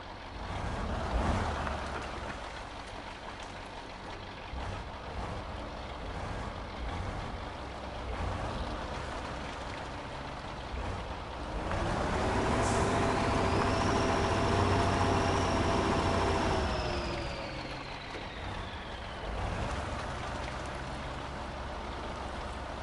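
A truck engine in Spintires, pulling a trailer and rolling it back, rumbles steadily at moderate volume, then swells in a rising strained whine midway before easing off, alone without talk.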